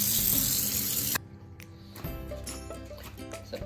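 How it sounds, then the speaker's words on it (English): Warm water runs from a tap into a sink being cleaned, a steady hiss that drops off abruptly, then resumes with a lower splashing flow and light clatter. "just got to wash a bit of warm water down there"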